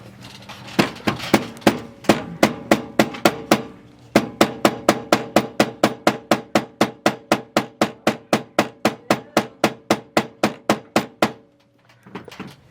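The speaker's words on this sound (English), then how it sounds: "Glue it, hammer it, I'm going to hammer it." A hammer pounds bag fabric flat with a long, steady series of sharp thuds, about three blows a second, close and loud, pausing once before resuming and ending in softer handling noise.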